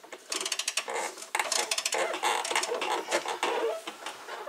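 A half-inch drive ratchet works on the oil drain plug of a John Deere 5400 tractor, giving close, rapid bursts of metallic clicking in uneven runs with brief pauses between strokes.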